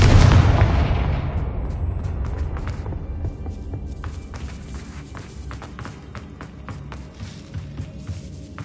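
A Confringo spell blast in Hogwarts Legacy, a loud booming explosion at the start whose rumble decays over a few seconds into scattered crackles and small debris taps.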